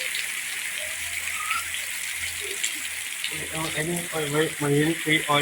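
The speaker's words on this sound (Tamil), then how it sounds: "மழையை உப்படி பெய்யுது பாருங்க" Heavy rain pours down in Jaffna as a dense, steady hiss, and a voice rises over the downpour in the second half.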